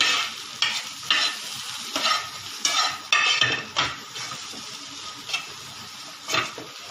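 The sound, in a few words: stirring turmeric and coriander-cumin powder into the pan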